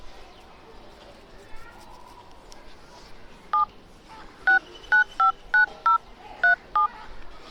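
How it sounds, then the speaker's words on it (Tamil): Telephone keypad dialing tones, a run of about eight short clear beeps in uneven rhythm, loud over a quiet room with faint speech earlier. "நம்ம வேறு யாருக்காச்சும் ஃபோன் பண்ணி பார்ப்போம்."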